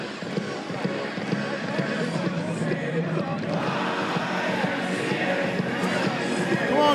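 Big crowd in the stands at a fall high school football game, a steady roar of babble and cheering with a song playing loudly through the stadium speakers throughout.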